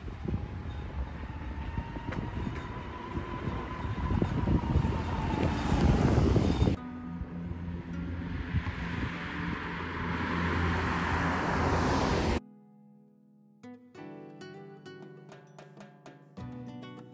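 A 1972 VW Bus converted to electric drive climbs a steep grade in third gear, giving a steady loud rumble of road and wind noise inside the cabin before cutting to a quieter stretch near the end.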